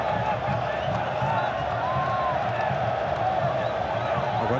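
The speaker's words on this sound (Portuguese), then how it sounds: "Agora a torcida do Flamengo que faz muito barulho aqui no Carindé com esse escanteio" Flamengo supporters roar and chant across a football stadium during a 2008 Brasileirão match against Portuguesa, a steady wash of distant crowd noise beneath a commentator talking over it.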